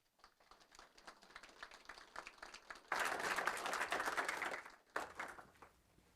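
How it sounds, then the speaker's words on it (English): Applause at a city council meeting, scattered claps building into a full, dense round of clapping from the audience, then tapering off into a few lingering claps. "Let's give them another warm round of applause."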